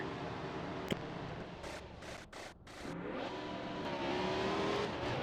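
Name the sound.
race cars speeding by in a NASCAR Cup Series racing video game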